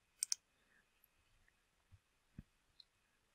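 A pair of quick, sharp mouse clicks sounds close in a quiet room, followed by a few fainter soft clicks and taps.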